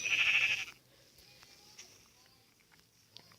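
A sheep bleats loudly in Minecraft Pocket Edition 0.15.0, one short, near, synthetic-sounding cry at the start, followed by quieter game ambience with soft footsteps and faint clicks.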